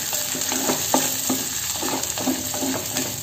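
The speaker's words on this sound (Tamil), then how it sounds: "சின்ன வெங்காயம், பூண்டு, வரமிளகாய், கருவேப்பிலை, இது எல்லாத்தையும் போட்டு அப்படியே வதக்கி விடலாங்க" Shallots, garlic, dried chillies and curry leaves sautéing in hot oil for a tamarind okra curry, a steady close sizzle broken by repeated scraping stirs of a spoon in the pan, no voices.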